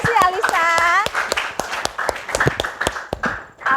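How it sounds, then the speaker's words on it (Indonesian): A classroom of students claps together, with sharp, uneven hand claps repeating across the stretch. Voices call out at the start and murmur between the claps. "Oke, tepuk tangan."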